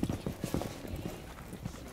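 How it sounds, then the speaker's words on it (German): Footsteps from a tactical shooter video game, a quick run of close, thudding steps with uneven rhythm that pause and return near the end. "Schritte."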